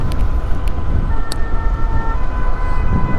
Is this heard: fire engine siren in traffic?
yes